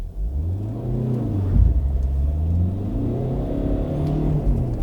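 A Ford Connect 1.8 TDCI GLX van accelerates hard from 0 to 100 km/h on a night drive, its diesel engine droning loudly and steadily from inside the cabin, pitch climbing and dropping through gear changes, with no talking.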